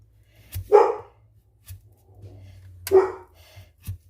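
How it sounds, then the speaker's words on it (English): A dog barks a few times in short, separate bursts at close range, with quiet breathing between the barks and no voices. "She barks at anybody, actually."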